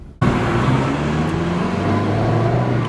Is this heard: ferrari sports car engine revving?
yes